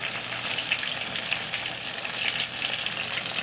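Flour, egg and sugar batter-coated snacks fry in a pan, giving a steady, even sizzle and crackle that runs throughout with no one talking.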